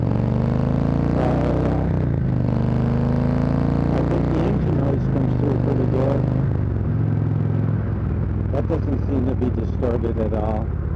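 A car speeds up on the road with a loud, continuous engine rumble that rises in pitch as it pulls away, mixed with strong road and wind roar. No one talks.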